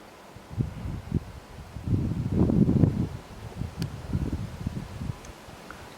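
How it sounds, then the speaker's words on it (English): Gusty morning wind in the Manyeleti bush buffets the microphone in low rumbling surges, strongest in the middle, with faint rustling between gusts. "It's very windy"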